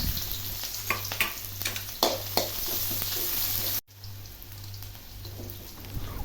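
Chopped onion frying in hot oil with popped mustard seeds, a steady close crackling sizzle with a few sharper pops and scrapes, briefly cut out midway before resuming evenly.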